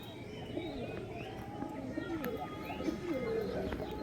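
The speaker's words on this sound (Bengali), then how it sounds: "রাজস্থানি পায়রা আছে এটা।" Rajasthani pigeons coo softly in soft repeated rolling calls, with faint voices and low background noise underneath.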